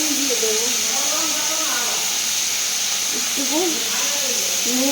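A steady, loud sizzling hiss of food frying fills the background while a person talks over it.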